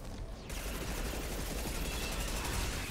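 Sustained machine gun fire in the video game Mass Effect 2, a dense continuous rattle of rapid shots running steadily from start to finish after a brief quieter opening.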